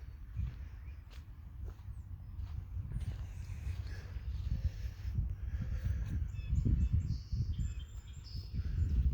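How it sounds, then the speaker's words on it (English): Scattered bird chirps and calls ring out faintly in the distance in woods, over steady crunching footsteps and rustling close by, with water dripping off the trees. "Some birds that I hear."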